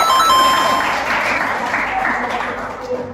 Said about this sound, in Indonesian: Silakan tepuk tangan untuk mereka boleh